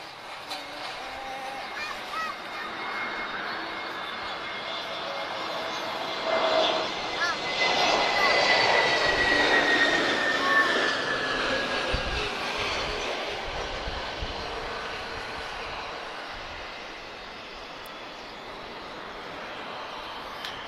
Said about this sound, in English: This is uniform 26730 arriving from Marseille. This is an A321neo.